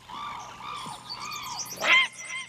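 An animated story's heron gives several drawn-out, harsh calls with bending tones, followed by a louder squawking burst near the end, heard alone against a quiet background.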